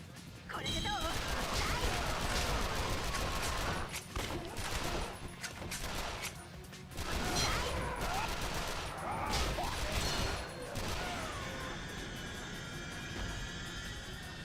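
Gunfire and chaotic combat noise in the video game Yakuza: Dead Souls, with loud bursts of shots and crashes running steadily throughout, mixed with voices.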